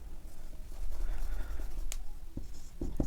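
Chalk or marker writing on a classroom board during a maths lesson, a soft continuous scratching with a few short taps near the end, fairly close and alone without talk.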